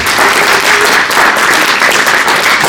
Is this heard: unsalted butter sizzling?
no